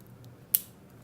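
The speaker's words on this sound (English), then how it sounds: "they are so sharp that you can see I can cut it like a knife. So this is the scissors." Small scissors on a Victorinox Executive multi-tool make a single crisp snip, a brief sharp click close by against quiet background.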